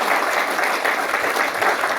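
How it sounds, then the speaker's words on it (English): A conference audience gives a big round of applause, with dense, steady clapping at close range that holds evenly from start to finish. "Big round of applause."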